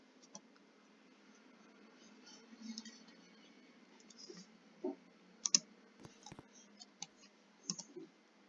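Sparse mouse clicks sound while someone plays a resort-building video game, buying a golf cart; single and double clicks scattered over quiet background hum.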